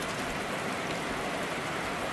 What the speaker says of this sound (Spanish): Y como lo dije, ya comenzó la lluvia.